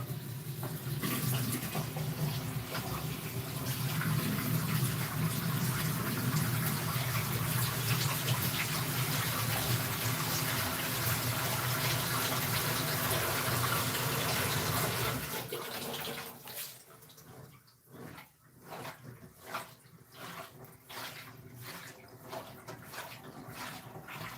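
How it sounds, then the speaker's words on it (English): Water from a tap runs in a steady loud gush while something is rinsed out, then the flow stops and scattered drips, splashes and handling noises follow. "Let me rinse this out a little bit."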